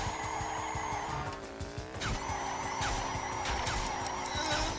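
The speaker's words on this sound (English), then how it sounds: "Okay, the drift." A kart drifts in Crash Nitro Kart, tires squealing continuously over a buzzing engine, with pitch shifts and repeated skid surges throughout.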